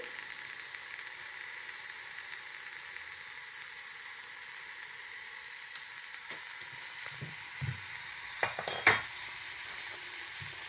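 Chili and garlic bhorta being mixed with mustard oil and salt, giving faint squelchy mashing and a few scrapes over a low steady hiss, with soft clicks near the end and no voices.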